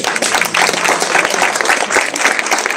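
A church congregation applauds and cheers during a baptism service in Gisors, with dense, steady clapping that fills the whole stretch at close range, mixed with crowd noise.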